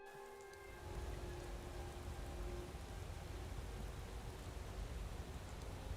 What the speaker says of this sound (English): Why is it always raining here?